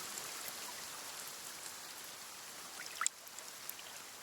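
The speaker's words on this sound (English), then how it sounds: "Damn, the rain is loud." Steady rain falls across the whole clip in the survival game The Forest, a dense, even hiss of drops with a brief sharper splash near the end.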